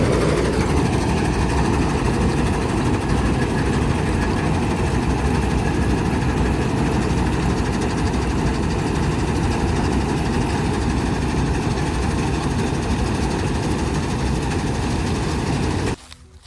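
A farm machine engine runs at a steady idle, loud and close, its low rumble constant for about sixteen seconds before cutting off abruptly at the end.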